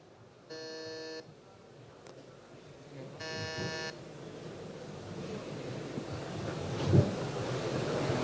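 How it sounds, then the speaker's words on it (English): A quiz buzzer system being tested at a school IT day event sounds two loud, steady electronic buzzes, each lasting under a second, a few seconds apart over faint room murmur and a later thump. "You can test out the buzzing system."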